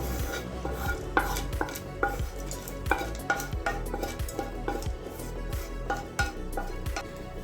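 Sautéed onions tipped into soaked red poha and mixed by hand, giving a string of rhythmic, close stirring and scraping strokes against the bowl, repeating about every half second with no talking.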